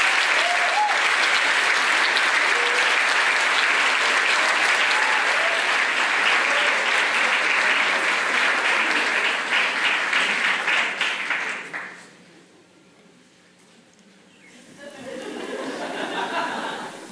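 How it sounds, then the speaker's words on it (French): A large gala crowd gives Chad Michaud loud, sustained applause with scattered chuckles, fading out before a quieter tail of murmuring and renewed light clapping. "je vous demande de l'applaudir fortement,"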